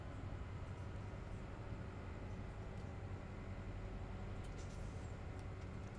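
Steady low rumble of a locomotive train driving in Farming Simulator 17, a continuous even drone with no breaks or talk over it.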